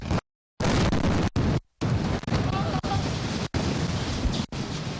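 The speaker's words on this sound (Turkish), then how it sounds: "TRT Arabi haber ekibi yakınlarındaki bir binaya bomba isabet edince ölümün kıyısından döndü." A bomb blast striking a building close to a news crew, heard as heavy, loud, broadband roaring bursts broken by abrupt cut-outs, harsh and saturated throughout.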